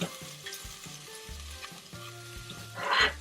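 Shiitake mushrooms that have been rinsed and trimmed drop into a hot pot as the base of a ramen broth, giving a steady sizzle with a few clattering stirs and a louder hissing burst near the end.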